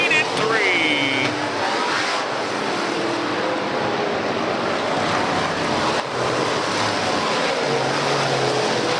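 Modified race cars circling Southern New Mexico Speedway on the final lap of a last chance race, a steady, loud, dense engine roar holding throughout without letup.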